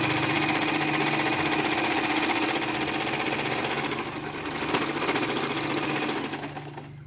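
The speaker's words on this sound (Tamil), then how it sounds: "இங்கே மேலேயும் கீழேயும் டபுள் ஃபோல்ட் பண்ணி இங்கே தைச்சிடலாம்" A sewing machine stitches a double-folded fabric edge in a steady, fast mechanical chatter that runs close and loud nearly the whole time, easing slightly near the end, with no talking.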